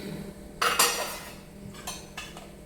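Spices dry-roasting in a pan for homemade masala, with a spoon stirring and clinking against the metal in a few sharp scrapes and taps, otherwise quiet.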